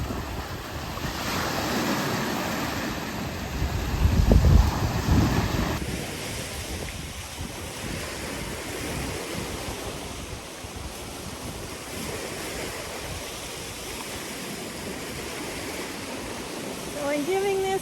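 Lake Huron surf rolling onto the beach on a windy day, a loud continuous wash of breaking waves with heavy wind buffeting the microphone, swelling midway, no talking.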